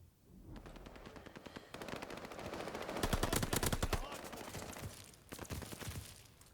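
Rapid automatic gunfire rattles through a Call of Duty: Vanguard multiplayer gunfight, with dense bursts of sharp shots building toward a loud volley midway, then trailing into further short bursts.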